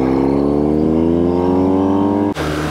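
A BMW GS motorcycle climbing the Col de la Madeleine pulls hard with a loud, rising engine tone that cuts off sharply as it shifts gear, heard up close.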